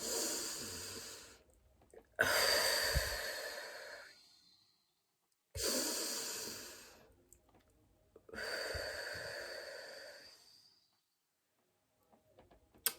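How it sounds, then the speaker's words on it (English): Deep breaths in a guided breathing exercise: two long, loud inhale-exhale cycles, each lasting a few seconds with a brief pause between, close to the mic with no talking. "And we're gonna close off with 2 breaths."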